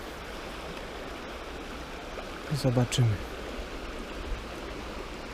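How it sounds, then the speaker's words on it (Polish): A fast-flowing river where anglers fish for grayling and trout gives a steady, even broadband rush of water throughout, with a brief spoken word and a short splash-like burst over it. "Wartka rzeka."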